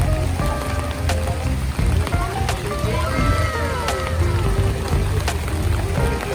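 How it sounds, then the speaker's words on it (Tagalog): Constant heavy rain hisses and splashes on surfaces while people talk over it, with occasional sharper drips and knocks. "medyo malakas ang ulan ngayon"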